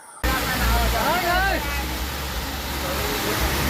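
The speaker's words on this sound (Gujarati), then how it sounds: "સરયુ નદી જે આ રામ પેઢી ઘાટ ઉપર સરસ મજાનું ફૂલ સ્પીડમાં પાણી વહી રહ્યું છે" Sarayu river at Ram Ghat in Ayodhya flowing fast: a steady, loud broadband rush of moving water close by, with faint voices and bird-like chirps over the continuous roar.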